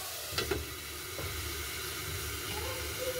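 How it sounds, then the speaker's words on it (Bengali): Okra (bhindi) frying in a pan gives a steady, soft sizzle and hiss throughout, with a few brief clicks of stirring early on and no talking. "3 থেকে 4 মিনিট খুব ভালো মতো করে ভেজে নিলাম।"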